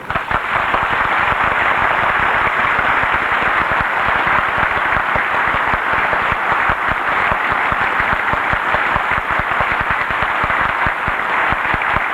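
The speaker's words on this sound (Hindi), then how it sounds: "एक बार ताली बजा के दिखाई मुझे कैसे बजाना।" A large audience at a 1995 birthday celebration gathering in India breaks into loud, dense, sustained clapping that holds steady for over ten seconds without any voice.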